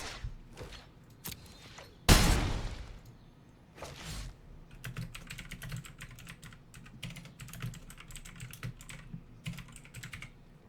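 Someone types on a computer keyboard in a quiet room, producing bursts of rapid clicking keystrokes. A heavy thump or bump cuts in near the start, then the tapping runs on steadily and close.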